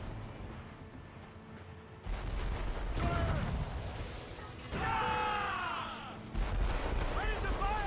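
Ship cannons boom in Assassin's Creed Rogue during a naval battle, with heavy low blasts arriving in a few separate volleys. Voices and shouted orders come in between and over the blasts.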